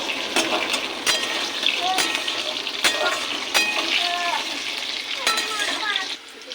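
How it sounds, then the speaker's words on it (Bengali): Pumpkin pieces frying lightly with salt in a pan for cauliflower khichuri, a steady close sizzle with occasional stirring scrapes and faint voice sounds in the background. "কুমড়োর মধ্যে দেবো একটু লবণ, দিয়ে এটাকে একটু ভেজে নেবো হালকা।"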